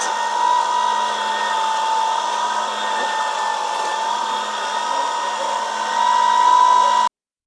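A Celiberry cold press juicer runs steadily with a loud, even whine and a constant hum, swelling slightly near the end before cutting off abruptly.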